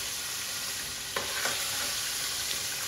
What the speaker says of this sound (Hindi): अब इसको ऐसे ही ऊपर नीचे करके कबाबों को फ्राई कर लेंगे।